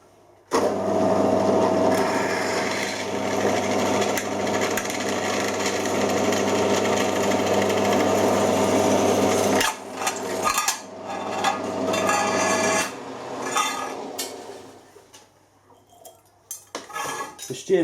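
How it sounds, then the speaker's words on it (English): A loud, steady drill grinds continuously into stainless steel for several seconds, then stops and restarts in short bursts with metallic clinks and scraping. "you've got to make sure you drill the hole"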